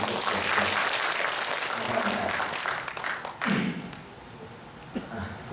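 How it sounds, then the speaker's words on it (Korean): A church congregation applauds during a Sunday worship service, a dense wash of clapping that thins out after about four seconds into scattered claps and room noise, with faint voices underneath. "박수 한번 해주세요."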